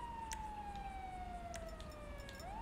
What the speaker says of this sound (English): The sirens are dissipating,